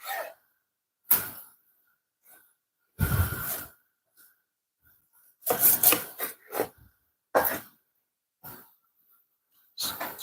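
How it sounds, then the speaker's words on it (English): Knife trimming excess fat off a cut of meat in a home kitchen, a few separate rasping cuts with short pauses between, close and clear, no talk. "So I'm just gonna cut off some of the fat off this."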